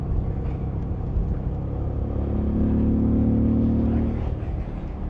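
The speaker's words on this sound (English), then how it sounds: "you twist the throttle, you hear it immediately, you hear it through the airbox." A 2025 Moto Guzzi V7 Sport, a naked motorcycle with a big engine of about 66 horsepower, rumbles steadily and then swells in a louder throttle-on surge toward the end, heard close and continuous with no talking.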